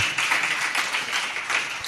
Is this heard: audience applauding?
yes